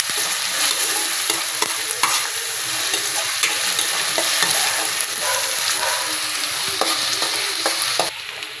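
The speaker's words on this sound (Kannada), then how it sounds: "ಸ್ವಲ್ಪ ಈರುಳ್ಳಿ ಫ್ರೈ ಆದಮೇಲೆ ಹಸಿಮೆಣಸಿನ್ಕಾಯಿ ಹಾಕೊಳ್ಳಿ. ಎರಡು ಚೆನ್ನಾಗಿ ಫ್ರೈ ಆಗಬೇಕು." Onion and green chillies frying in a pan, a loud steady sizzle with frequent spatula stirring clicks and scrapes, close and continuous with no voices.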